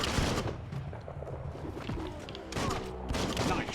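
Rapid bursts of gunfire and impacts from the Biomutant video game crackle loud and dense, with layered shots and booms rolling through the scene.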